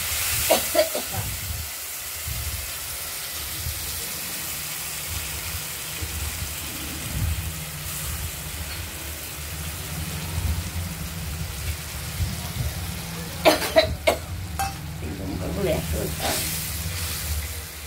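Ground spice paste sizzles in a pan of fried potatoes while a koi fish curry is being cooked. A steady frying hiss runs throughout, with louder crackling bursts toward the end.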